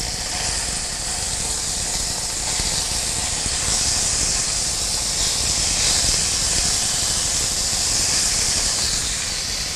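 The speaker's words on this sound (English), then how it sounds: "I'm going to stir fry them in 2 batches so that they get cooked properly in the beginning" Food sizzles in a pan while being stir-fried in olive or canola oil, a loud, steady, hissing crackle that swells slightly in places and carries on without pause.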